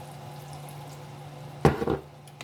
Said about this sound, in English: About another half a cup of water I'm gonna add with it